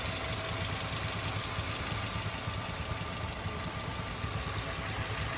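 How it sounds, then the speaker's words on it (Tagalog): A Nissan Sentra engine idles at a steady low rumble, even and unbroken, fairly quiet and with no voices over it. "Tahimik na makina"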